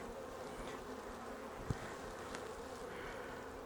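Honey bees buzzing steadily around open hives during an inspection, a faint continuous droning hum with one brief knock partway through.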